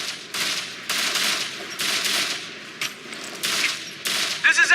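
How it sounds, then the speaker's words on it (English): Sustained automatic gunfire in the video game Operation Flashpoint: Red River, with bursts of rapid shots repeating every half second or so at a steady, moderately loud level. "We're taking heavy fire."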